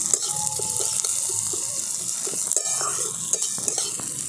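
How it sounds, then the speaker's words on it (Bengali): Onions and green chillies frying in a pan while being stirred, a continuous close sizzle broken by repeated soft scrapes and taps of the spoon against the pan. "খুব ভালো করে এগুলোকে ভেজে নিয়েছি"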